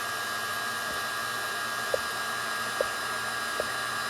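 A hair dryer blows steadily to dry a 3-D snowman porch leaner craft, a constant close whooshing hiss with a few faint knocks and no talk.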